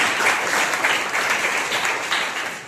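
A Sunday church congregation in a Father's Day service breaks into loud, close applause, a thick wash of many hands clapping that swells and eases over a few seconds.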